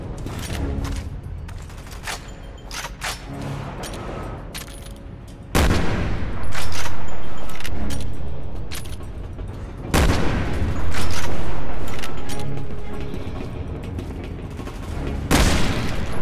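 Blasts tearing open a ship's bulkhead in a battle scene: three heavy booms spaced several seconds apart, each followed by a long loud rumbling roar amid dense crackling gunfire-like clatter.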